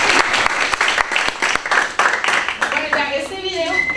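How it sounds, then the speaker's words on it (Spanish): Audience applause for a speaker at a Costa Rican social work talk, steady clapping from a small group that fades into scattered claps and a voice near the end. "Un aplauso ahí para Mari."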